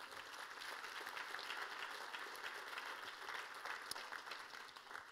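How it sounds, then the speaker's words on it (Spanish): A church congregation applauds during a service, a continuous wash of many hands clapping that stays fairly faint and steady throughout. "¿Qué tal si le damos un aplauso a Jesús?"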